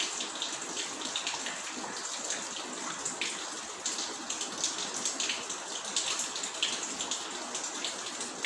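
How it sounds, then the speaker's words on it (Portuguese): Light rain falling, a steady, even patter of drops with faint irregular taps on a surface, continuous and moderately close with no voices. "estamos presenciando uma chuvinha boa"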